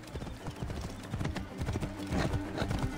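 Horse hooves in Assassin's Creed Origins clip-clopping in a steady walking rhythm, fairly close, with faint background ambience.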